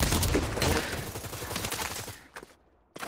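Gunfire in the VR shooter Pavlov Shack, played on an Oculus Quest 2: a dense run of rapid shots up close that fades, then a brief silence and a final sharp report.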